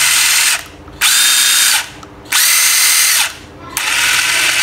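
A Hitachi brushless drill with torque and hammer settings whirs in three loud bursts, each spinning up and running about a second before stopping, with short quiet gaps between.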